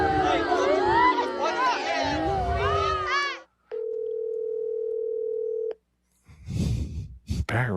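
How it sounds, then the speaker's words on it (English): An unanswered phone call rings out with one long, steady ring tone, alone after a stretch of crowd chatter and laughter, followed by a voice speaking. "Barry Ribs won't pick up."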